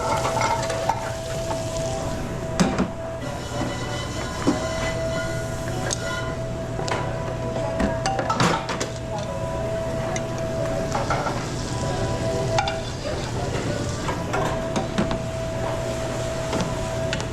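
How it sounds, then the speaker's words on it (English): Tomato sauce is stirred in a pot in a busy restaurant kitchen, with scraping and clinking of utensils over a constant sizzle and hum of equipment, plus scattered clatter throughout. "And you're remembering to stir this tomato sauce once in a while, right? Otherwise it's gonna burn on the bottom."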